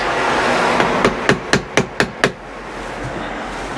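A hammer strikes a chisel being driven into a wall to make room for cables, six sharp evenly spaced blows in quick succession over a steady background hum.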